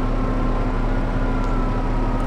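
Tractor engine in the farming video game Farming Simulator 25: a loud, steady droning rumble with a constant humming tone throughout, unbroken and with no talk over it.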